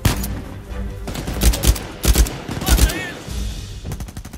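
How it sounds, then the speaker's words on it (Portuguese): Rapid bursts of gunfire in the Uncharted 4 video game, several clustered volleys of sharp shots with booming low ends, mixed with game voices and a faint whistling tone. "É muito tiro, mano."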